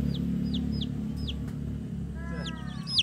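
Young chicks peep and cluck in short, bright chirps repeated through the moment, with a steady low background hum underneath and a denser cluster of calls near the end.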